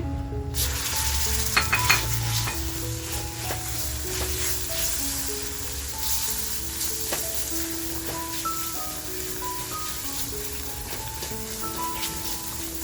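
Freshly ground homemade masala hitting hot oil for mutton vajdi, a steady sizzle and crackle that holds throughout, with pan stirring and a low background hum.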